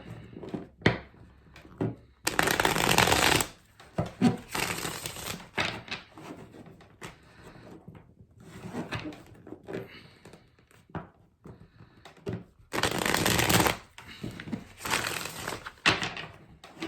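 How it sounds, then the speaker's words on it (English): Tarot cards being shuffled in repeated bursts, several brisk riffling passes with louder flurries separated by softer handling taps and shuffles, close and fairly quiet. "Let's get 3 more shuffles for Leos."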